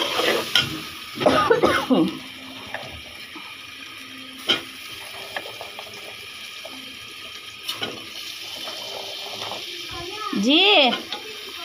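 Potatoes tipped into frying masala in a home kitchen, then stirred: scattered scrapes and clatters of a spoon against the pot come in short bursts over a faint sizzle, with a brief voice near the end.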